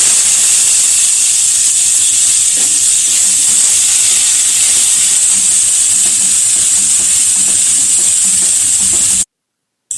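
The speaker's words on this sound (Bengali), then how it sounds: "মশলাটা দেওয়ার পর আমি গ্যাসটা লো ফ্লেমে রেখে ভালো করে কষিয়ে নিলাম মশলাটা" Spice paste frying in hot oil over a low gas flame for aloo paneer, a loud steady hiss and sizzle with faint stirring scrapes underneath, cutting to silence near the end.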